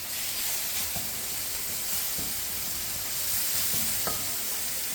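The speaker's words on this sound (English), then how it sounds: "just start to fry that off" Chili garlic curry paste frying in a pan gives a steady, soft hiss and crackle, with a few light clicks of stirring scattered through, quiet and continuous with no talking.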